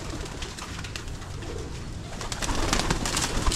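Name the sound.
pigeons cooing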